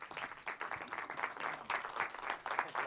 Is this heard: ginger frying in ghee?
no